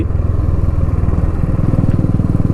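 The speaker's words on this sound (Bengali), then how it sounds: "রাস্তা দিয়ে বাইক চালাচ্ছি" A motorcycle engine drones steadily and loudly up close, its low throbbing rumble continuous throughout with no voices.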